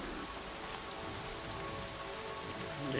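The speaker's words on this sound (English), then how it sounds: "And it's raining." Steady rain falls in the video game Horizon Zero Dawn, a dense, even hiss of drops on surfaces that holds throughout with no speech.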